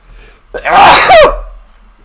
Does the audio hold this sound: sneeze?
yes